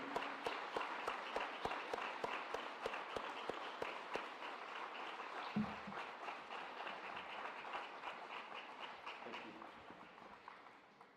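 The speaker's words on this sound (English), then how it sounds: "Give them a round of applause, guys." Steady applause from a school assembly audience at a Veterans Day event, a dense patter of many hands clapping throughout, fading slightly toward the end.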